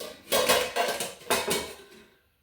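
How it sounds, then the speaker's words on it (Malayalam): A metal lid is set onto a pot of Kerala-style payasam with a few close clattering clanks and rattles, then it settles and goes quiet. "മൂടി വെക്കാം"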